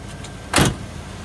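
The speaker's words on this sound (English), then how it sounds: "the door, did you see how nice that closed?" A 1971 Corvette door swings shut with a single solid thud, one short, firm impact, close by and alone against quiet background.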